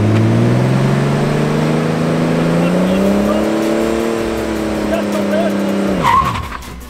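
A car engine revs hard and steady during a static burnout, its tone held high and slowly sagging before cutting off sharply near the end, loud and close with some talk underneath.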